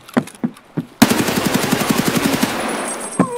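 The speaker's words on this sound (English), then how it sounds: "Loud M4, yep." An M4 rifle fires in Escape from Tarkov, loud and close: a few single shots, then a rapid sustained burst of automatic fire, followed by one more shot.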